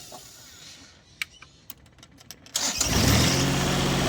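A Jacobsen grass-cutting machine engine is cranked with a few sharp clicks and taps, then catches and roars into a loud, steady run that lasts to the end.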